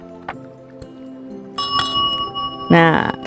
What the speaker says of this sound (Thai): ทำไมแม่หมอถึงกดกริ่ง